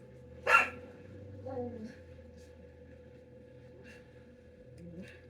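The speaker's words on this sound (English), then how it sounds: "They just like to bark at everybody that goes by." Dogs at home bark at people passing by: one sharp, loud bark near the start, then a few softer yips and whimpers over a steady low background hum.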